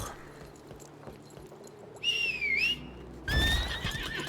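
A horse in the video game Lost Ark gives two loud, bright whinnies, the second sharper and closer, over faint ambient clatter that may be hooves and a quiet background.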